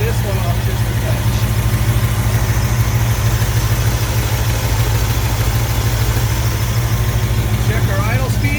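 A 1978 Ford F150 truck engine idles close by with a steady, even low rumble that holds unchanged for several seconds.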